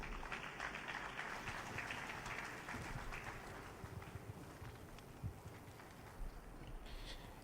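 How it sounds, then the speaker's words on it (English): A crowd applauds at a peace accord signing in Ondo State, a steady wash of many hands clapping continuously at moderate distance, fairly faint and even throughout with no voices standing out. "If we're clapping, we can do it better, please."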